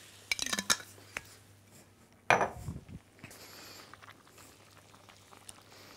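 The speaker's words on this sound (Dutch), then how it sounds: "Dan schep je de saus even om." Tomato sauce for spaghetti is stirred in a pan, with a few scraping, clattering spoon-on-metal strokes and faint bubbling, close and fairly quiet with pauses between bursts.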